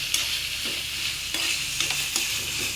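Coriander and curry leaves frying in hot oil give a steady, bright crackling sizzle throughout, punctuated by a few sharper pops and the scrape of stirring, close and without any voices.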